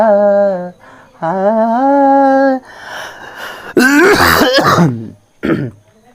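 Several harsh throat-clearing coughs and rasping grunts from a sick man, close and loud, come in uneven bursts with short pauses between them.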